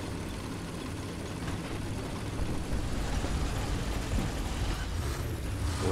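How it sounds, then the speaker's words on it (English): A vehicle engine in War Thunder rumbles steadily as a low, continuous drone that grows slightly louder partway through, with no voices over it. "I hear an engine to my right again."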